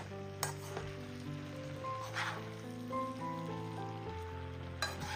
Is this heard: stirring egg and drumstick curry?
yes